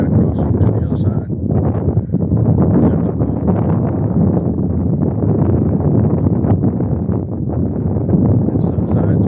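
Strong wind gusting across a pond on a bass fishing trip, a steady loud roar buffeting the microphone throughout, with low rumbling and occasional rustling.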